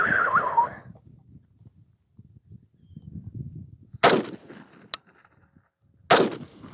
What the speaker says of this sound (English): let's shoot these dollar store targets